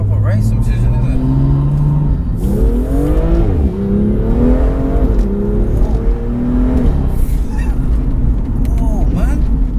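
Tuned 430 bhp BMW M2 GTS accelerating hard, its engine and exhaust note climbing through the revs with rising whine and roar heard from inside the car, loud and continuous across several gear pulls.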